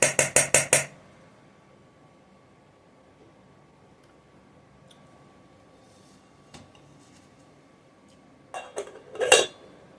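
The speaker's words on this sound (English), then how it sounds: "I'm going to give it a stir" Metal utensil clanks against a camping mess kit pot while stirring food over a stove: four quick bright scrapes and clinks at the start, a quiet stretch, then a few more clattering knocks near the end, close by.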